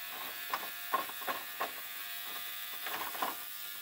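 Parts cleaner running cold, with no heat, on a rifle moderator: a steady electric buzz and hum throughout, with faint intermittent clicks and clatters, close and fairly quiet.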